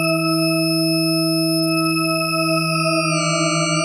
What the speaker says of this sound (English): You can see it makes a sine wave. You have up to 16 detuned oscillators.